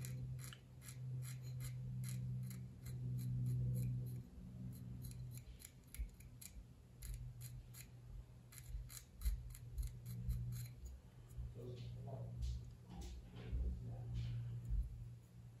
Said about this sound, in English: So the first thing we'll do is we'll use a scraper to take a seam down.